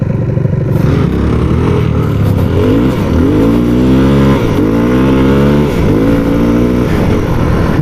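A Yamaha WR250F dirt bike engine revs hard and close, its pitch climbing and falling in repeated loud surges over a steady running drone, with no talking.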